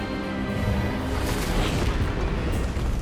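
A booming, blasting spell effect for Expelliarmus erupts in the Hogwarts Legacy video game, a loud, dense burst with rumbling low end and a bright whoosh swelling midway, sustained for about three seconds.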